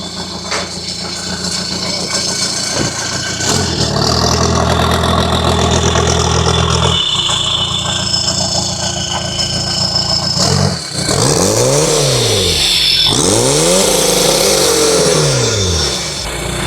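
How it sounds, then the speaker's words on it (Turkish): A diesel Seat Arosa with a swapped 2.0 PD engine, built as a drag car, idles loudly and steadily up close, then is revved hard twice in rising and falling sweeps. "Arabamıza marş yaptık."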